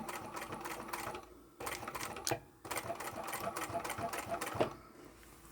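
A sewing machine stitches a wallet made from old men's neckties, with a rapid close mechanical hum running in short runs broken by brief stops while the work is turned, no talking.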